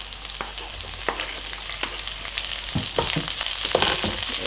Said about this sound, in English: can you hear that sizzling, guys?